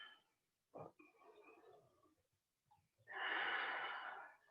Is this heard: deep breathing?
yes